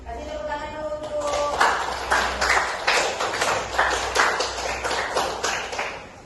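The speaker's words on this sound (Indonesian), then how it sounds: "Kasih tepuk tangan dulu untuk" A class of secondary school students clapping together, a burst of rhythmic group applause in about seven even claps after a brief voice at the start.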